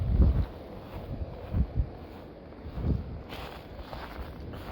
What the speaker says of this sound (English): the wind will just bury everything again